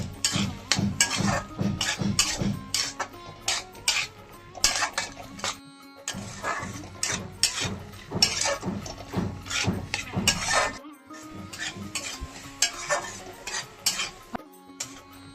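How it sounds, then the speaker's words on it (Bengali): Capsicum stirred into masala in a pan, a busy run of rapid scraping and clattering strokes of a spatula against the pan, dense and close, with brief pauses. "এখন কিছু ক্যাপসিকাম কেটে দিয়ে দিচ্ছি, করে নাড়িয়ে চাড়িয়ে নিচ্ছি। মশলার মধ্যেই নাড়িয়ে চাড়িয়ে এটাকে কষিয়ে নেব।"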